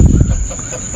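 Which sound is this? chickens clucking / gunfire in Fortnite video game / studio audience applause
chickens clucking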